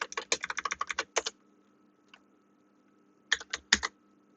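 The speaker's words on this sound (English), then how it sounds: "If I can type correctly" Fast bursts of keystrokes on a computer keyboard while writing code, a quick run of clicks, a pause with a single tap, then a few more close, crisp strokes with no talking.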